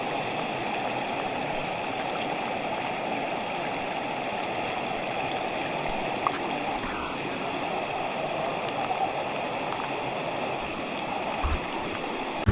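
The Yamashita River in the hills of San Jose Tarlac flows in a steady, soft rush of water, with a constant, even murmur and no voices.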